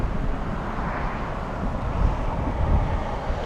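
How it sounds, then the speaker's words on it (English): A Lufthansa airliner moving on the ground at LAX, a steady broadband rumble with wind buffeting the microphone, swelling slightly toward the end and continuous throughout with no voices. "All right, that Lufthansa is moving."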